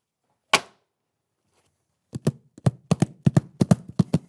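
A single sharp tap, a pause, then a quick run of rhythmic clicking taps like hooves trotting, a foley imitation of a horse, close and dry.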